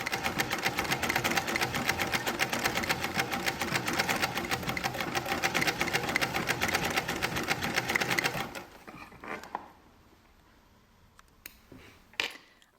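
A sewing machine stitches freehand embroidery following pre-marked lines in a rapid, steady whir for about eight seconds, then stops, leaving faint handling clicks and a brief clatter.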